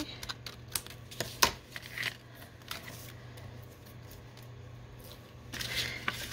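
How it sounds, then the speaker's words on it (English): Scissors trim paper for a junk journal in a few soft, close snips and crisp paper rustles, spaced irregularly over a quiet background. "We'll trim this side off."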